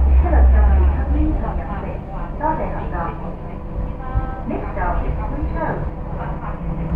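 A passing train rumbles steadily at moderate volume beneath people talking, a continuous rolling roar that holds through the whole stretch.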